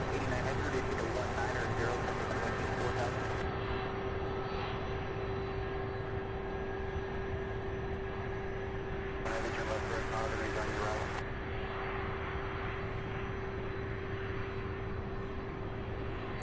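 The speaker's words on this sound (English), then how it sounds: "There are UPS planes everywhere." UPS cargo planes taxiing and flying at night at a busy cargo airport, a continuous jet engine drone with a steady whine, moderately distant, with a person talking over it.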